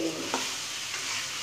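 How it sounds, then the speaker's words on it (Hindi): Chicken and cauliflower being stirred in a hot pan, a continuous close sizzle and frying hiss with faint scraping of the spoon, no voices. "अब इसको मिक्स करते हैं चिकन के साथ।"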